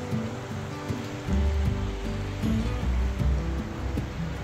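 Sea waves wash onto a sandy shore, making a continuous rushing surf with a few louder swells, heard close by alongside low rumbling wind.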